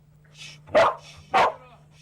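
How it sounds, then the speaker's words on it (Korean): Search and rescue dog in training barks twice in quick succession, two loud, sharp woofs close by against a low steady hum. "저 이렇게 짖었는데"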